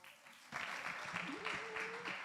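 Student assembly members applaud at a formal seating session, a moderate burst of clapping that starts after a quiet half-second and continues steadily to the end, with a faint voice beneath.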